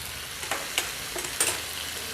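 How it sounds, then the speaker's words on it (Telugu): Spices such as turmeric and coriander powder fry with ginger garlic paste in a pan for a spicy chicken fry, giving a soft continuous sizzle broken by a few sharp stirring scrapes and clicks. "కొంచెం ఫ్రై చేసుకున్నాం."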